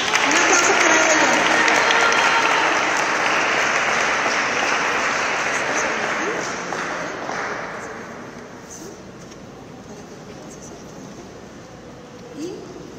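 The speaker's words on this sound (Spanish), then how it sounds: "Un aplauso para ella" A crowd at a children's drawing contest award ceremony at the Sinaloa Art Museum bursts into loud applause that gradually fades to scattered clapping and then quiet.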